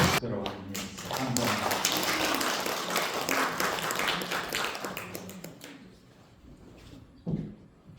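A church congregation claps loudly and steadily for several seconds, then the applause fades out, followed by a few scattered taps and a single sharp knock.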